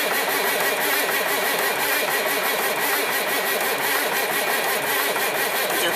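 A 1963 Mack B81 diesel truck engine runs continuously and loudly at close range, a dense, rough, steady roar with no pauses and no voices over it.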